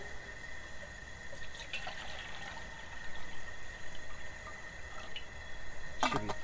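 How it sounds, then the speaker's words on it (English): Water is poured into a lidded cooking pot for rice with black beans, corn, bell pepper, habanero and chicken, cooked outdoors. A faint, steady trickle and light splashing carry on at low level, with a brief sharper splash near the end. "I'm just going to go ahead and add my water"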